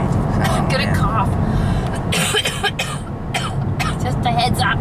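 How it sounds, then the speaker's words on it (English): A woman coughs repeatedly outdoors on a coastal loop walk at Peggy's Cove, several harsh bursts close to the microphone over steady wind and background voices. "She's been coughing a lot lately."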